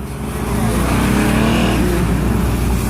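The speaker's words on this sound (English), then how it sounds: "you wanna get your loud truck out of here?" A loud truck drives past close by on a rainy day, its engine roar rising and holding steady as it goes by.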